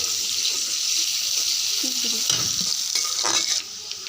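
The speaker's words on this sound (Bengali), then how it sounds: "এগুলো দিয়ে ভালো করে কষাই।" Marinated meat with tomato and paste frying loudly in a pot, with a dense continuous sizzle and a few stirring scrapes until the hiss drops off near the end.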